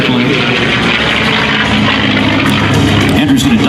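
Warbird propeller airplane performing a four-point hesitation roll at a military airshow; steady loud engine drone with a broad roar, continuous throughout, under crowd and announcer noise.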